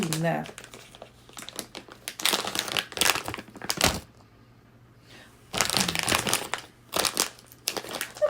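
Plastic packaging from an Amazon order is opened close up, producing loud crinkling and crackling in irregular bursts with a quiet pause midway, while someone talks over part of it.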